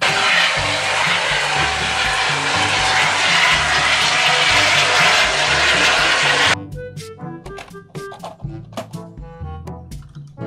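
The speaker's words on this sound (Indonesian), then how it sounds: "Helikopter." A helicopter flies past as a steady, loud broadband engine and rotor roar for several seconds, then cuts off into a bouncy musical backing track.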